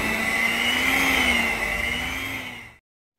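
An electric hand mixer whirs steadily with a high motor whine while mixing jam roll batter, holding an even tone for nearly three seconds before cutting off abruptly.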